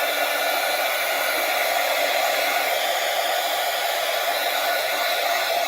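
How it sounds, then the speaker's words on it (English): A heat gun blows continuously for several seconds at a steady, loud, even roar with no change in pitch or level, used on a paper mail-art envelope at a crafting desk. "heat gun alert"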